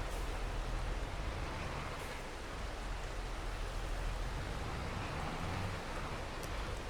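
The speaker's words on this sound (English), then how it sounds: "it has started to rain" Steady rain falling in the farming game Farming Simulator 22 on the Elmcreek map, a constant soft hiss of drops with an even, unbroken texture, moderately quiet and with no voices.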